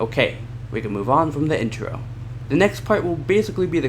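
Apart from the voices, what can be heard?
No distinct noise like a dog, phone or traffic.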